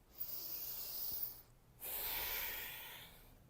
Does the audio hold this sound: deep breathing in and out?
yes